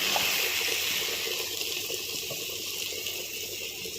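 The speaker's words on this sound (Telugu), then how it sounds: "కర్రీలో కూడా కొంచెం వాటర్ వేసుకున్నాం" Water pours steadily from close by into a pot of chicken curry, a continuous splashing rush that eases slightly toward the end, no voices.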